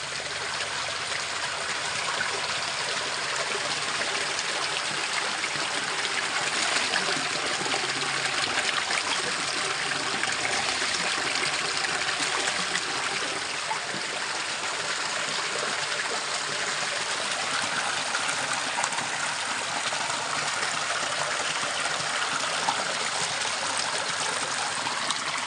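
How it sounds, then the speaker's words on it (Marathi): A small stream flows below a village, a steady continuous rush and trickle of water, close and even, with no voices. "तिथे खाली नदी आहे छोटीशी"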